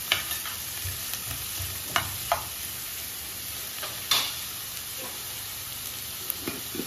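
Onion and ground spice paste fries and sizzles in a pan for a shark fish curry, with a steady hiss under repeated scraping stirs and occasional sharp spatula clinks; no talking.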